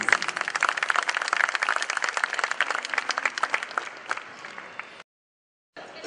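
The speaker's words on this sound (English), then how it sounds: "Can we please have a round of applause for Mrs." Brisk, crisp applause from an audience at an art festival event in Andheri Lokandwala, many hands clapping close and lively before cutting off abruptly into silence, then a faint return.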